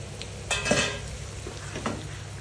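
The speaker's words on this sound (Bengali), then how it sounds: "নাড়তে থাকবো এবং তেলের সাথে মিশিয়ে নেব।" Prawns and spinach frying in oil are stirred in a pot, with a constant low sizzle under a few clinks and scrapes from a utensil against the metal.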